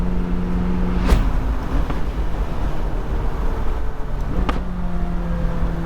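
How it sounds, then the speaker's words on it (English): McLaren 600LT Spider heard from inside while driving: a steady low engine and road drone, broken by two sharp exhaust cracks, one near the start and one near the end. "that crack and pop on the downshifts, I mean, that doesn't get old"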